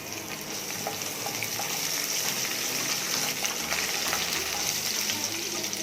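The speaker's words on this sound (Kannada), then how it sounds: "3 ಕೆಂಪು ಮೆಣಸು ಒಗ್ಗರಣೆಗೆ," Mustard seeds, cumin, dried red chillies and curry leaves crackle in hot oil as tempering for rasam, a dense, loud, continuous sizzle with sharp popping specks throughout, close up and without talk.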